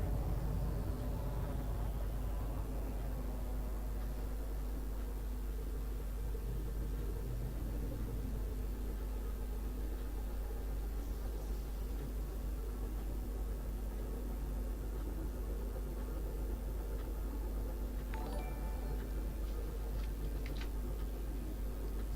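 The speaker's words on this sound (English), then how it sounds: "Now there's a very different sound to that engine noise, even just the default noise, not even the boost." A spaceship engine in the Elite Dangerous space game hums as a steady, low droning rumble at its default thrust, with no boost. The hum holds evenly throughout, and a few faint ticks and tones sit over it.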